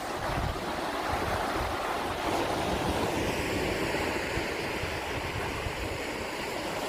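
Sea waves surge and wash against a rocky coast near a river mouth while wind blows steadily across the microphone, forming a continuous, loud rumble with no talking.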